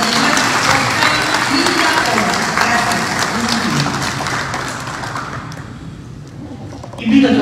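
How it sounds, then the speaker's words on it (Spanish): A crowd applauds steadily at a graduation ceremony, dense clapping filling the space before fading out toward the end, followed by a brief voice. "Fuerte los aplausos"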